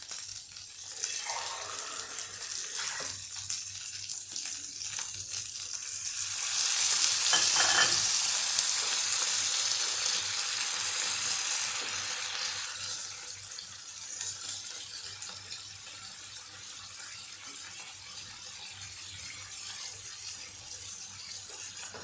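Water poured into chopped vegetables frying in a pan for a Karnataka-style dosa filling, a surge of hissing sizzle in the middle that rises loudly then settles back to a softer steady frying crackle.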